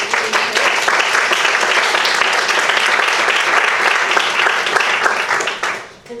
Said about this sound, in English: big hand of applause for everybody